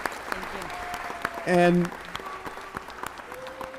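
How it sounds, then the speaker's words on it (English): Applause rolls through the Los Angeles city council chambers at a ceremony, a steady wash of clapping under speech, with a brief loud tone or chime cutting in midway. "Please, big round of applause"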